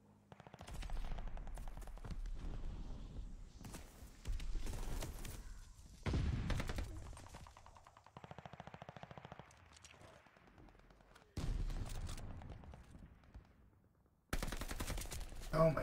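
Bursts of automatic gunfire from a video game weapon, several loud rattling volleys separated by short pauses, with quieter shots in between.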